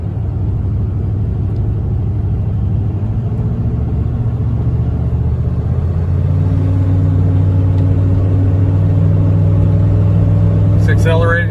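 A 6.5 diesel truck engine runs close and loud with a steady, low rumble, then accelerates about halfway through and its drone climbs and thickens.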